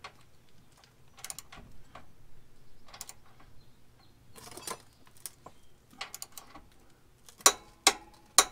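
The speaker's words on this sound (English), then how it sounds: "Using a 1/4 inch Allen wrench on this bolt on the back side, torque this one to 60 foot-pounds." Clicks and ratchet-like ticks from torquing a bolt with a 1/4 inch Allen wrench on the back side of a Synergy track bar on a Jeep Wrangler JL, scattered irregular taps ending in a few sharper, louder clicks.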